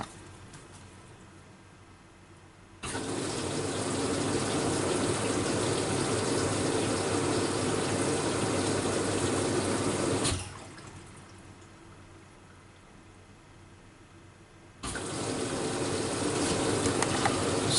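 A washing machine loaded with a Calgon tablet fills with water for its main wash: a steady, loud rushing gush runs for several seconds, stops, then starts again after a quiet pause, with no talking.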